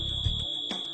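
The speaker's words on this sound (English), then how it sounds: "A first alarm is sounded." First alarm of an FM200 gas fire suppression system: a steady, piercing high-pitched electronic tone sounds continuously through the moment, with some low background noise underneath.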